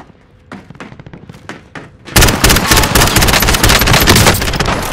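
Rapid automatic gunfire in Call of Duty Modern Warfare battle royale: scattered sharp shots and thuds at first, then a loud, dense, sustained burst of close machine-gun fire with heavy impacts, no speech.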